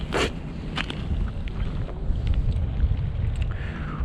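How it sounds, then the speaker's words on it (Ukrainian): Strong wind on a fishing trip buffets the microphone with a steady low roar and gusty rumbles, broken by a few sharp knocks and splashes. "Ось такий вітер, друзі."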